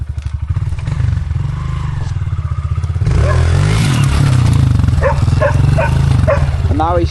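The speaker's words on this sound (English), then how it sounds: "This is enduro style pit bikes." A Honda CRF 125 enduro-style pit bike idles and then revs, giving a loud, close, pulsing engine drone that stays steady throughout, with a person talking over it.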